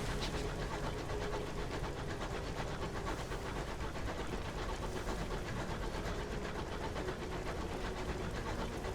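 A locomotive in the fantasy space game Sunless Skies gives a steady, continuous mechanical rumble with faint rhythmic clatter, held at an even loudness for the whole stretch, with no voices.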